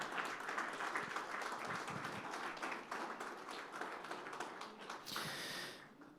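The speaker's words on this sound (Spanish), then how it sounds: "Fuerte ese aplauso de alabanza al Señor" A church congregation claps in praise to the Lord, a continuous faint wash of many hands that fades away near the end.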